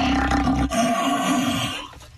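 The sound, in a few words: person imitating a lion roar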